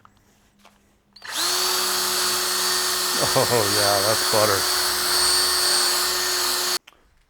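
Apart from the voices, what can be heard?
power tool cleaning a dirt bike shock part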